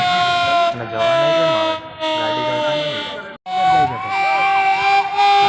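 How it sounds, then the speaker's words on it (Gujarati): A loud wailing emergency siren at a fire site, with a fire tender present, rises and falls repeatedly, with horn-like tones layered over it and a brief cutoff midway. "સાયરન દ્વારા લોકોને દૂર દૂર હટી જવા માટે સાયરન દ્વારા જાણ કરવામાં આવે છે"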